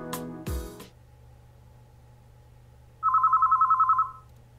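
A telephone rings in a video game after a soft thud and a quiet hum, giving one loud burst of rapid bell trills that lasts about a second and then stops.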